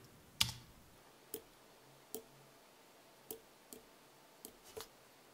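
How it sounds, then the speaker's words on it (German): A computer mouse clicks through a PowerPoint presentation, about seven sharp, isolated clicks spaced irregularly roughly a second apart, quiet and close against near silence. "Ich klicke mal fix durch."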